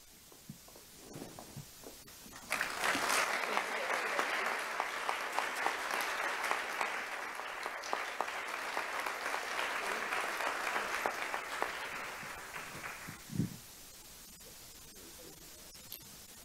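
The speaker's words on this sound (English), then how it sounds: "One additional big round of applause for all of our awardees." Audience at an annual award ceremony bursting into sustained applause, a dense wash of clapping that swells quickly, holds for about ten seconds, then stops abruptly, with scattered voices before it.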